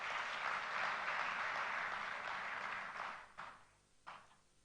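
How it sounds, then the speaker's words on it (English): Applause for the Vice President at a national customs conference, a dense, fairly distant crowd clapping that holds steady for about three seconds, then thins out with a few trailing claps. "I think he deserves a resounding round of applause"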